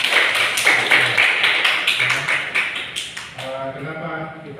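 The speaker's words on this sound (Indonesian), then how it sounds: "Tepuk tangan untuk Abel." A classroom of students claps for a pupil named Abel during an Indonesian school lesson, with quick, sharp handclaps that fade after a few seconds as a teacher begins talking.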